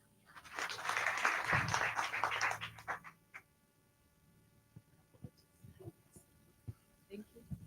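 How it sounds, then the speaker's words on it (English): Audience applause at a building code stakeholder sensitisation event: a dense burst of clapping swells for about two seconds, then dies away into scattered room noise and faint murmurs. "let's clap for him"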